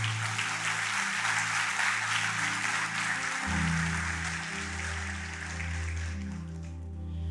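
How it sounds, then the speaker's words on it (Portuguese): Congregation applauding during a church service, a sustained broadband wash of clapping with a low musical drone or organ-like tone underneath, fading slightly toward the end. "Pode aplaudir o Senhor."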